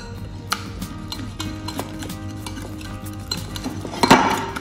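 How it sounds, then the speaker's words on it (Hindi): A spoon stirs and scrapes through a thick paste of spices, lemon juice and food colour in a bowl while preparing Lahori chargha, with close repeated clinks and a louder scrape near the end. "अब हम इसको अच्छे से मिक्स करेंगे।"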